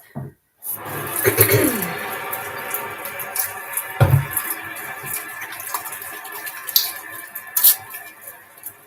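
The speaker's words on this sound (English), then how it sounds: "I'm gonna wash my hands." Hands being washed under a running tap at a kitchen sink to rinse off cooking oil, a steady close water flow with brief splashes and drips, no talking.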